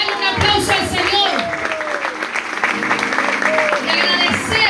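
A church congregation claps and cheers for the Lord in a sustained, dense wash of applause, close and loud, with voices calling out over it.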